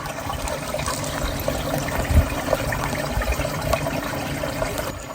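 Water flows and trickles along the Appalachian Trail, a steady close-up babble with small splashes and gurgles, heard alone without voices.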